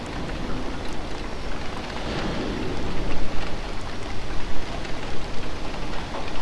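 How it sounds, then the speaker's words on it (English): Steady rain pours down at a ship departure port, a dense, close hiss on an outside microphone that swells heavier midway, with no talking. "Oh, it really is raining now. Oh, man, it's coming down."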